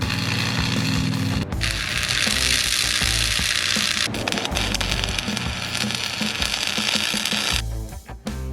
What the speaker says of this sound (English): Now I'm going to go ahead and tack weld it.